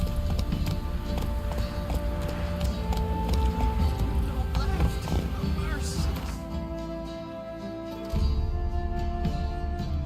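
Hoofbeats of the horse Roach in The Witcher 3 clip-clop steadily and close, with a rhythmic trot over game ambience and music while a voice speaks.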